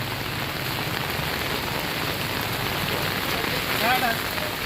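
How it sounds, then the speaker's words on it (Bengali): Steady rain falls beside the rising Muhuri river in South Tripura, a constant, even patter on surfaces nearby. "বৃষ্টি কিন্তু বন্ধ হচ্ছে না এখনো"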